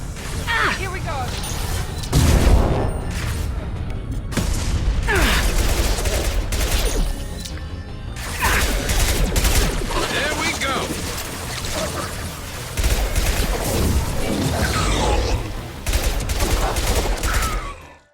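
Rapid, loud gunfire in Mass Effect 2 cover-based combat, bursts of automatic shots and booms coming in waves with short gaps, layered over game effects.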